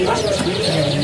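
Songbirds call and coo in a crowded bird market, loud and close, mixed with people talking nearby.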